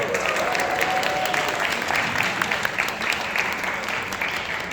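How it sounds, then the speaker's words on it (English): A large audience applauds steadily, a dense wash of many hands clapping at once, sustained and fairly loud throughout. "let us give them a round of applause"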